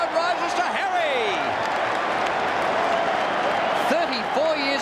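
A large stadium crowd at a 1995 AFL preliminary final between Carlton and North Melbourne roars and applauds a player with a dense, sustained wash of cheering, while a commentator speaks over it.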